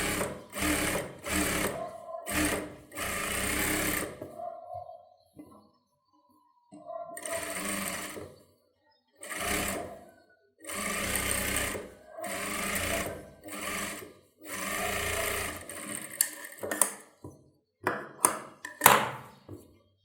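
A sewing machine stitches a folded fabric edge on a child's silk pavadai sattai outfit, running in repeated close bursts of a few seconds each with short pauses between, and light clicks near the end.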